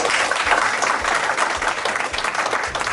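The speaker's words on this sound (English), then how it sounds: "But can we give him a good hand clap?" An audience at a neighbourhood committee meeting in Bayview Hunters Point claps for a young man, a continuous, even patter of many hands at moderate volume throughout.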